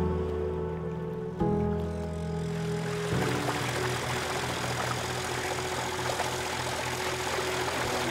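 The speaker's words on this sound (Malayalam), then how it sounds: "നമ്മൾ ബോട്ട് സ്റ്റാർട്ടായി ചാള കൊണ്ട് ചൂര തരാനായിട്ട് അങ്ങനെ പോകുന്നു." A fishing boat engine runs steadily off Lakshadweep, out for tuna with sardine bait, giving a loud, continuous droning hum with a slight shift in tone partway through and no voices.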